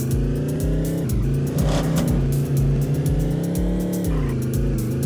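A car in the game Primitive Race drives around town, its engine humming steadily with rising and falling revs and a faint rhythmic thump, loud and close with no speech.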